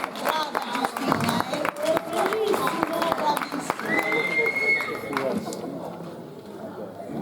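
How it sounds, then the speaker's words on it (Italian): Audience applause for Giustina at an outdoor August village poetry-and-song festival in Bulzi, a steady crowd clapping that runs several seconds and fades toward the end, with voices and chatter mixed throughout. "Un applauso a Giustina"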